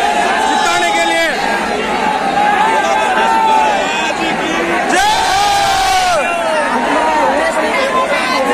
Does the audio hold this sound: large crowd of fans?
yes